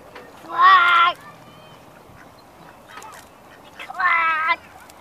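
Two loud, nasal quacks a few seconds apart stand out over quiet outdoor park background.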